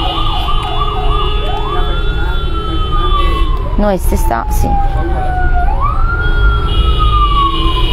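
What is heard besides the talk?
ambulance siren passing by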